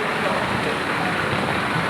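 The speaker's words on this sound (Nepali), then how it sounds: "हेर्नु त यति धेरै पानी परिरहेको छ कि।" Heavy rain falling in Kathmandu, a dense, steady wash of hiss that stays loud and unbroken throughout with no clear pauses.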